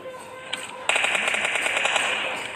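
A rapid burst of automatic gunfire from the mobile game PUBG Mobile Lite rattles loud and close, running continuously after a brief lead-in, with faint talk underneath.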